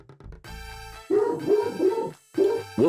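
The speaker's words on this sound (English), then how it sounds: "Woof woof." A dog barks in the video game Suikoden II: a few short, loud, bright yips that repeat in quick bursts over game music, with a pause between the two groups.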